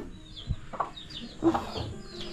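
Chickens in a coop give a few soft, scattered clucks at close range, with brief quiet gaps between calls.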